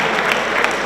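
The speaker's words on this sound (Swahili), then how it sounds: "Makofi mengi sana kwake, makofi mengi sana." A short burst of audience applause, a steady broadband patter of many hands clapping at close range, with no speech over it.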